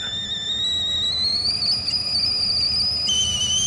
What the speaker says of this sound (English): A nice whistling tea kettle.